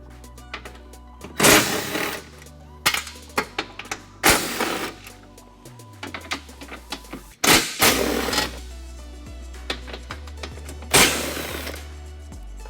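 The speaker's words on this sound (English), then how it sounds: "Now we're going to remove all 4 of these bolts. There's 2 on each side with a 13mm socket." A 13mm socket on an impact tool removes the bumper bolts from a Jeep JL Wrangler, giving several short, loud buzzing bursts spaced apart, with clanks between them and no voices.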